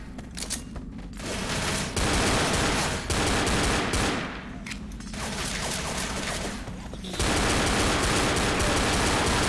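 Survivors fire guns at zombies in the 2008 zombie shooter Left 4 Dead. Dense, sustained automatic fire comes in long, loud bursts with short pauses between them.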